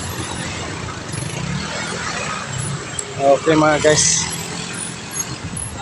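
Heavy road traffic with trucks in the evening, a steady low engine rumble and road noise throughout with brief horn-like tones near the middle, while someone talks over it.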